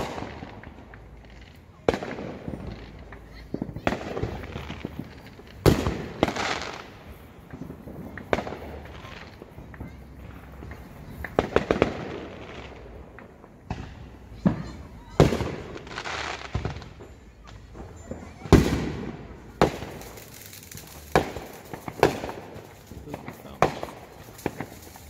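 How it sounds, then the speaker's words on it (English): Fourth of July fireworks bursting in a rapid irregular series of sharp booms and crackles, some loud and close, others fainter, with voices talking in between. "Fireworks. They're pretty big, but they're still small compared to those ones."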